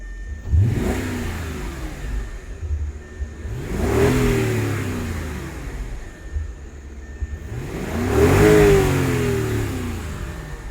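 A 2006 Audi A8 with 113k miles, already warmed up, is revved three times. Each rev is a distinct rising and falling engine surge, with a lower idle in between, and the last rev is the strongest.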